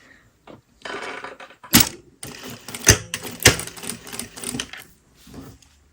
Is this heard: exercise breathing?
no